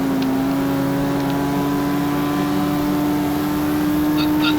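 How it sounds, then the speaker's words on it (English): A car engine in an old racing video game gives a loud, steady, plain droning hum that barely changes in pitch, with no talking. "The sound of the engine is very plain and generic"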